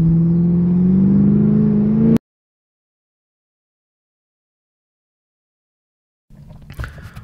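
A fast car's engine rising in pitch as it accelerates, loud and close for about two seconds before cutting off abruptly into silence, then low muffled rumble and clatter.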